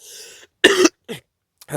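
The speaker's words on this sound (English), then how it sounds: "It's just a dry cough." A person who is under the weather gives a few short dry coughs in quick succession, close and fairly loud, after a brief low hum.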